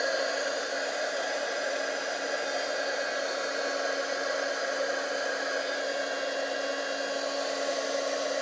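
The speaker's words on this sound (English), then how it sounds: "Let the heat tool heat up just a bit, and then go ahead and melt it and emboss just that one edge of the button." An embossing heat tool blows a steady, even whir of hot air while melting and embossing the edge of a button, a continuous close hiss with no talk.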